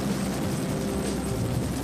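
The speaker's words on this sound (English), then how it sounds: "The EH-101 moves through the air like a hummingbird." An EH-101 helicopter drones steadily in flight with a throbbing rotor beat and engine whine, loud and constant throughout.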